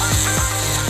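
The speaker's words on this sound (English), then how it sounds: "let's take a thin drill and start sawing the cylinders" A thin drill cutting through a lock's cylinders, a loud continuous high whine with rhythmic grinding pulses roughly every quarter second.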